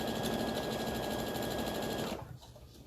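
Sewing machine running steadily as it stitches quilt block pieces placed right sides together for a double star block, a continuous close whir that stops abruptly near the end, leaving quiet room tone.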